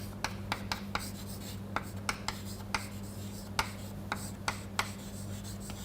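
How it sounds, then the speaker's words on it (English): Chalk or pen tapping and scratching out an equation during a mathematics lecture on the Wiener process, a dozen short sharp ticks spaced irregularly over a steady low room hum, fairly quiet and with no talking. "and let us write that down."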